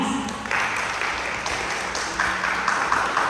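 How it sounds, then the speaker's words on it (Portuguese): A church congregation applauds during a Portuguese-language sermon on inner healing, a steady, moderately loud wash of clapping that swells in bursts and holds for the few seconds, with a faint voice underneath. "Você pode aplaudir o Senhor por essas verdades?"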